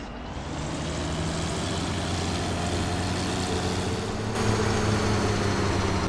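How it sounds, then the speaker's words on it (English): Military tractor engine idling in Farming Simulator 17, a continuous loud diesel drone with a steady low hum that swells slightly louder toward the end. "And just listen to that engine purr."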